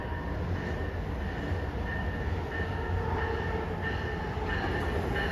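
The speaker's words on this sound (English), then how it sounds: "Train approaching." A subway or commuter train pulls into a station platform on Route 128, a loud steady rumble of rolling cars with faint wheel noise and no talk.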